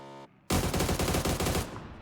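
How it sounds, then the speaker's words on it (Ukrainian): Automatic gunfire in the PUBG battle-royale game on the Vikendi map, aimed at a hang glider: after a short tone, a loud, dense burst of rapid shots rattles on for over a second before fading. "Настрілюють по дельтаплану."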